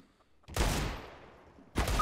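Gunfire in CS:GO, two sharp bursts of shots: the first rings out and decays slowly, and a second burst starts just before the end, moderately loud with no talking.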